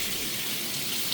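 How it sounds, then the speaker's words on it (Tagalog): Heavy rain pours steadily on an off-grid campsite at night, a dense, even hiss of falling water with no pauses and no voices. "bumagsak yung malakas na ulan."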